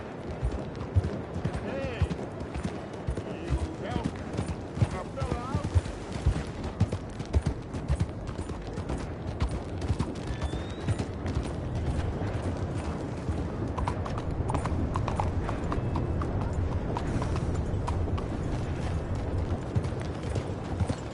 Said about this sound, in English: that's what you call a prize-winning horse